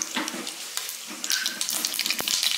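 Mustard seeds crackle and pop in hot oil as the first tempering step of a chilli curry, with a steady bright sizzle broken by sharp spattering bursts, close and fairly loud, no voices.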